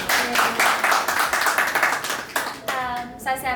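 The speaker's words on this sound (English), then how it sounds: "So give her a round of applause." An audience gives a round of applause at a soft-launch event in Cancun for the Cohshare social media app. There is a dense burst of clapping for a few seconds, then a voice begins speaking as it fades.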